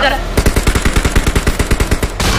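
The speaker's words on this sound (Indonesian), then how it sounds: "Gue ditembakin dari samping" Rapid automatic gunfire in a video game, a fast regular burst of about twenty loud, close shots fired at the player from the side, stopping just before the end.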